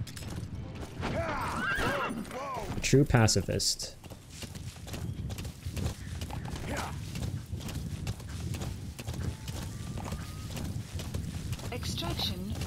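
A horse in Metal Gear Solid V: The Phantom Pain gives a short whinny, and steady clip-clopping hooves run under continuous talking from a player.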